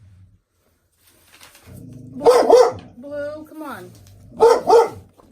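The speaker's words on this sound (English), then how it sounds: "He will bark and he will bark." A pet dog barks from a second-floor spot at another dog below, giving two loud double-bark bursts separated by a pause, with a person talking to it in between.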